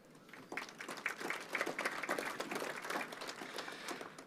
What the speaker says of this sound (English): A big round of applause for CAP.